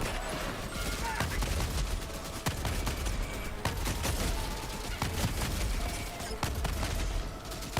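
Breaker Incendiary shotgun blasts in Helldivers 2 combat, a dense run of loud repeated shots with sharp transients at irregular intervals over a constant roar of battle noise.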